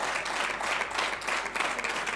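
An audience applauds during a political speech on judicial reform by minister Bezalel Smotrich, a dense, even wash of many hands clapping that fills the whole moment.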